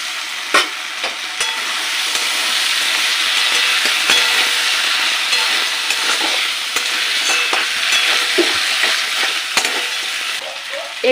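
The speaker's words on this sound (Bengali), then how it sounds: "মাছের মাথাগুলো দিয়ে দিচ্ছি, ভেঙে ভেঙে দিয়েছি।" Broken fish heads fry in a pan with onion, ginger garlic paste and chillies, a loud steady sizzle broken by repeated scraping stirs and clinks, close up and without talk.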